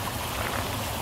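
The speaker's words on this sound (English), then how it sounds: "Another waterfall!" Steady broadband rushing of a waterfall, close and continuous for about a second with no voices.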